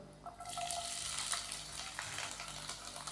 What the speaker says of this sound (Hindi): लहसुन के पेस्ट को हल्का सा हम फ्राई करेंगे।